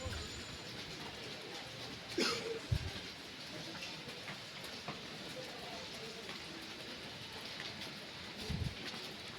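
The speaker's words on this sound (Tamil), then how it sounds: "திருச்சியிலும் மழை பெய்யுது" Rain falls during Cyclone Ditwah in Trichy, Tamil Nadu, heard as a soft, steady hiss with faint rumbling, apparently from aboard the Rockfort Express train, plus a few brief knocks.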